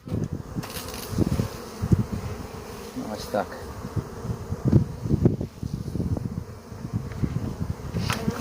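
Honey bees in a selected breeding colony, number 17, hanging below the frames, buzz steadily up close amid frame handling and rustles, while someone speaks briefly.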